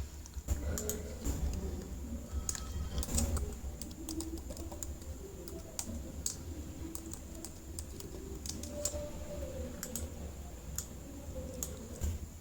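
Computer keyboard keys are pressed in a steady run of quiet, crisp clicks and taps over a faint hum, with no one talking.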